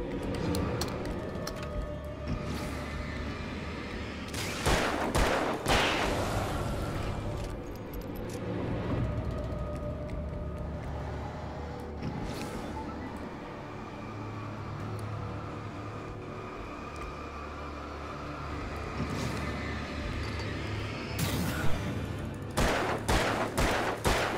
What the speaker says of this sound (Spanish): Cinco tiros para cargarme un tío.